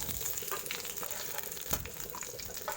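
Chicken pieces frying in ghee in a pan for Kundapura-style ghee roast make a quiet, steady sizzle with soft crackles and a faint scrape of stirring, close by and with no talk.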